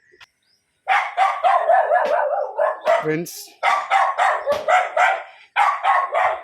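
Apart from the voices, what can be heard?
dog barking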